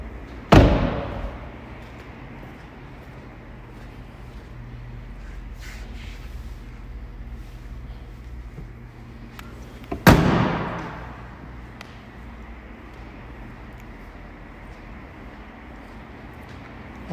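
Two heavy slams of a 2021 BMW M440i coupe, about ten seconds apart, each a sharp loud thud with a short ringing decay, separated by quiet outdoor background.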